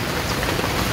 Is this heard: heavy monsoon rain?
yes